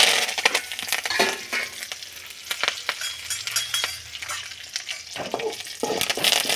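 Mustard seeds, curry leaves and dried red chillies fry in a little oil for simple pasta, a steady crackling sizzle with sharp popping bursts and occasional stirring clinks, close and fairly loud throughout.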